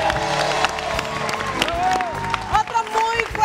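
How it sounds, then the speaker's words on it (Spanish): A television talk-show studio audience claps and cheers for a guest, a mid-level burst of applause with voices and crowd chatter mixed through it. "Un fuerte aplauso para Fanny Lu."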